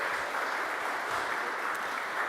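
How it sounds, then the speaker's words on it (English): Conference audience applauding together, a steady dense patter of many hands filling the room at even strength, with no voices over it. "We can applaud them."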